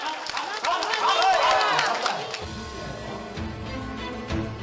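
Spectators at a Korean bullfight cheering and shouting as a crowd, loud at first and then fading under a narrating voice.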